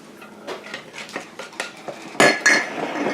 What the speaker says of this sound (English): Now, we're going to mix this up